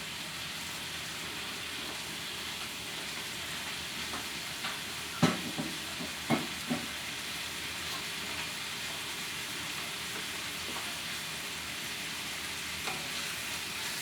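A shrimp fried rice mixture cooks in a pan with a low, constant sizzle. A few soft clanks of stirring come early on, and the sound is otherwise quiet and even. No one talks.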